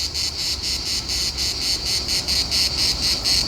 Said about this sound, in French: Accompagné du sublime chant de cigales.